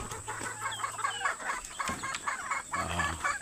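Several chickens cluck and chatter close by at feeding time in a steady, busy stream of short calls, with a low hum underneath.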